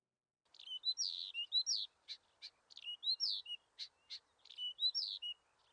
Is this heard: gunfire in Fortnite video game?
no